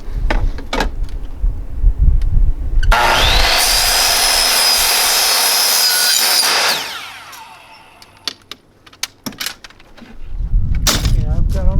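A power saw cuts retractable double-door tracks to size, giving a loud, sustained high whine for about four seconds, framed by knocks and handling clatter before and after.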